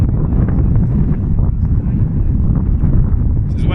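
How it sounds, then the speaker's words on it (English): Strong wind roars and buffets the microphone continuously while kiting, a loud steady rush with a brief voice near the end. "This is where wind's getting strong, mate."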